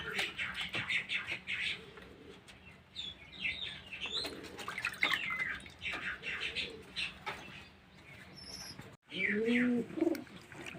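Domestic pigeons coo softly and repeatedly while being bathed so water soaks into their feathers, with scattered chirps and a brief flutter of wings close by.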